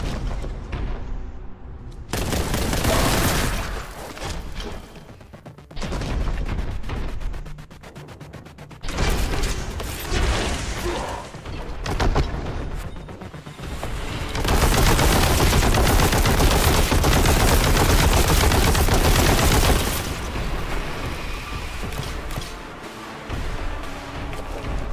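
A Melta gun blasts enemies in Warhammer 40k Boltgun, loud heavy bursts of gunfire that run in long sustained stretches broken by short lulls, dense and close throughout.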